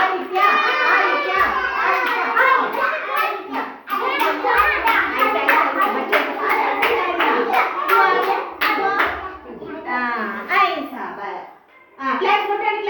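Children clap their hands in a classroom activity while an adult and kids talk loudly over them, producing a steady run of sharp, close claps mixed with voices and shouting.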